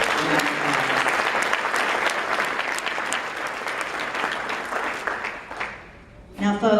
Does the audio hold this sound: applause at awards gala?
yes